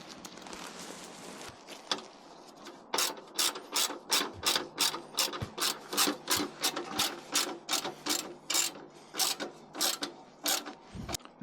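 A ratchet socket wrench drives a bolt while installing a hood spring on a 1984-2001 Jeep Cherokee, first in a few scattered clicks, then in a long run of quick, even ratcheting strokes close up.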